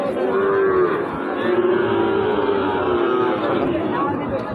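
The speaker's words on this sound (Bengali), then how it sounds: "সবার কাছে একেবারে হাত ভর্তি গরু কিন্তু বিক্রেতা কমতি নাই" Cattle moo in long, drawn-out calls, several overlapping and close, at a busy cattle market where crowd chatter and talking voices run underneath throughout.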